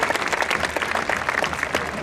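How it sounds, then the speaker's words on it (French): A crowd at a traditional costume festival in Arles claps briefly, a lively burst of scattered handclaps with no clear voices. "On peut applaudir"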